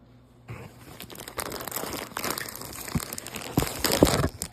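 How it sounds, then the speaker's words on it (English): Crinkling plastic bag being handled and pulled from a crochet kit box, a steady close rustle of sharp crackles and crunches that grows louder toward the end, with no talking. "it looks like the rest of it came in a plastic bag inside the box"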